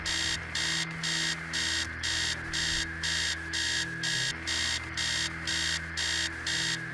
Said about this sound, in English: the alarm clock is flashing stop as well